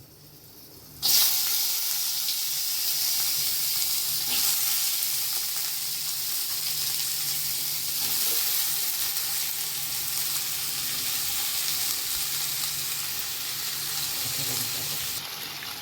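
Potatoes, chickpeas and chopped long beans drop into a little hot oil in a pan with a sudden loud burst of sizzling that settles into a bright, steady frying hiss.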